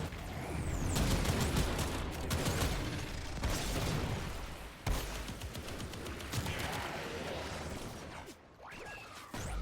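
An enemy squad fires on the player in the video game Warframe: dense, rapid bursts of gunfire and mechanical clatter pile up continuously at moderate level, with a few sharper shots standing out.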